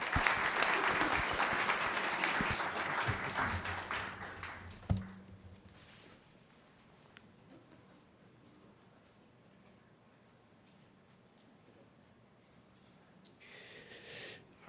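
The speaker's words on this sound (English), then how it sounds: "Can we get a round of applause?" Audience applause at an engineering technology senior projects presentation fills the opening five seconds, loud and dense, then cuts off sharply, leaving a quiet room with faint stray sounds.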